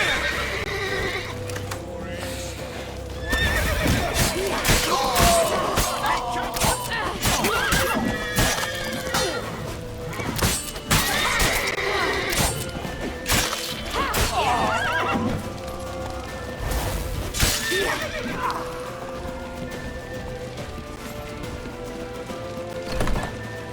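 Horses in The Witcher 3 video game whinny and neigh repeatedly over galloping hooves, loud and close, amid a busy game soundtrack with shouting voices during a chase.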